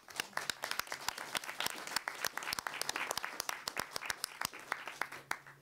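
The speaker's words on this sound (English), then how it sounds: "a round of applause for the panelists and for everybody else who participated" A round of applause for panelists at a trade-dispute discussion event, with a modest audience's individual claps distinct and crisp, fairly close and continuous.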